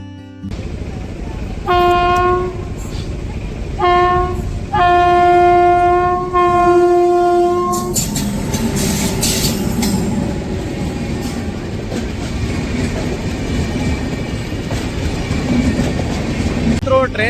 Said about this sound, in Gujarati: ટ્રેન જાય છે અને રસ્તો બ્લોક કરવામાં આવ્યો હતો